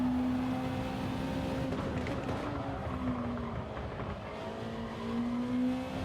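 A race car engine in Gran Turismo 7 drones steadily with a sustained whine, holding a constant loud pitch through a lap with faint tire noise.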